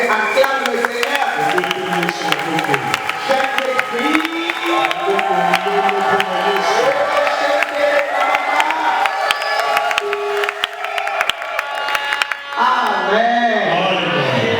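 A church congregation cheers and acclaims the Lord, with loud sustained shouting, whoops and voices singing out together, plus scattered claps, close and continuous throughout.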